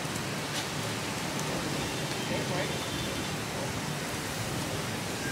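Rain falling steadily outdoors near water, a continuous soft broadband hiss of drops that stays even from start to finish, with no clear speech.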